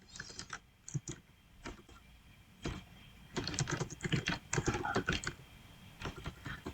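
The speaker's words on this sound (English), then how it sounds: "I'm just going to type this as a test post." Fingers type a short test post on a computer keyboard, with irregular bursts of clicking keystrokes up close, brief pauses between words and a denser flurry toward the end, and no talking.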